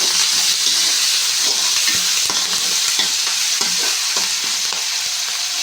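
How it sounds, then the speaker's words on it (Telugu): Potato fry with curry leaves and salt being stirred in a hot pan, a loud steady sizzle punctuated by repeated scraping strokes of the spoon, heard alone without speech. "అలాగే కరేపాకు కొంచెం సాల్ట్ ఒకసారి కలుపుకోవాలి"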